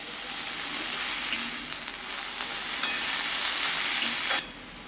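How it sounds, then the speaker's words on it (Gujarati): Fenugreek leaves and boiled potatoes stirred in a hot pan for Gujarati methi batata shaak give a steady close sizzle with soft scraping, which stops abruptly near the end. "હવે આપણે સારી રીતે મિક્સ કરી લેવાનું છે।"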